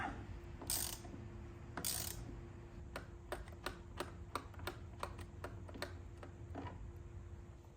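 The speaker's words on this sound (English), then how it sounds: "we're gonna get this main bolt out so we can take the wheel off" A ratchet with a T50 bit working the main bolt of a steering wheel on a C7 Corvette Z06, a run of close, sharp clicks after a couple of louder knocks, with no talking.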